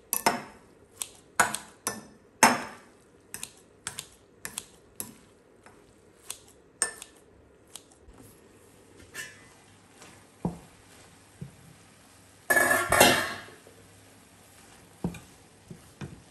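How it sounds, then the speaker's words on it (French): Kitchen scissors cut through drained rice vermicelli in a series of crisp, close snips, irregularly spaced with short pauses and a brief cluster of busier cutting near the end. "à l'aide de ciseau de cuisine, je viens couper mon vermicelle afin d'éviter qu'il soit trop long."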